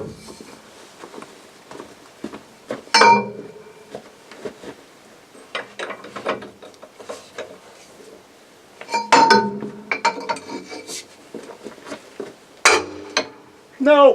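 A Link-Belt 2800 C II excavator's upper track roller bolt is worked loose with a torque multiplier, giving scattered metallic clinks and ratcheting clicks with a few louder clanks, close and fairly faint, under occasional low talk.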